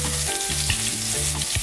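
Long strips of ginger sizzle and fry in hot oil at the start of a prawn noodle stir-fry, a steady close crackle with pulsing stirring strokes throughout, no voices.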